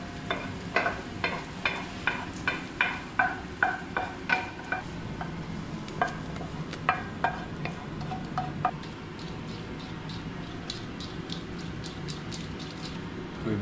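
A spoon or hands work through a bowl of Swedish meatball mixture with ground meat, giving repeated soft, wet squelching and scraping strokes in a steady rhythm, close up, with no voices.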